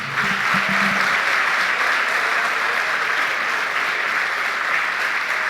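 A church congregation at a Sunday family worship service applauds in a steady, dense roar of clapping that holds evenly loud from start to finish, with a faint low tone briefly audible at the start.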